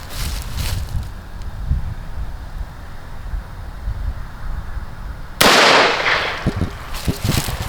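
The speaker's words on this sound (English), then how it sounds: "going into the gelatin with the Raging Hunter, we have the 45 Long Colt starting off." A Raging Hunter revolver fires a single .45 Long Colt round into ballistic gelatin, one sharp, loud blast at close range that rings out briefly after a stretch of quiet background noise.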